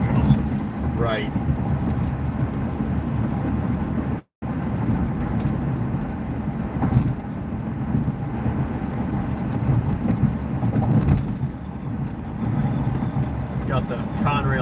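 Freight train rolling past on a railcam, including a Conrail auto rack car, a steady loud rumble of wheels and cars continuing throughout with a brief dropout, heard from a distance with voices talking over it.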